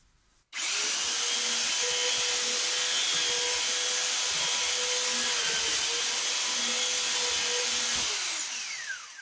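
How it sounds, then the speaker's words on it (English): A handheld belt sander whirs loudly and steadily against wood for several seconds, a high grinding hiss over a motor hum, then winds down. "Another method would be to use a handheld sander."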